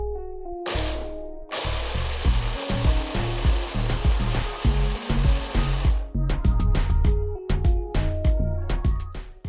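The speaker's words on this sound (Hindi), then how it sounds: "जी अब हम इसको ग्राइंड करने लगें, लेकिन ख्याल रखिएगा कि इसको ज़्यादा चॉप नहीं करना है।" A kitchen grinder pulses briefly to coarsely chop fresh salsa ingredients, its loud motor whirring in several short bursts with brief gaps between them, and no talking over it.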